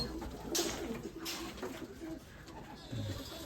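Budapest pigeons coo softly and repeatedly against a noisy background, with a few brief sharper sounds mixed in.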